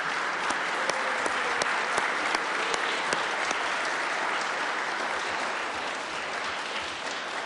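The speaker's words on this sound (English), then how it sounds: "and we'll give you a big round of applause." Members of the West Virginia Legislature give a sustained round of applause for a girls' team, the dense clapping steady and even throughout with no break.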